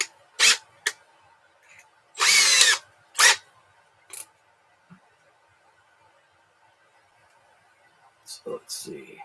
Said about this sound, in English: to go ahead and drill that out.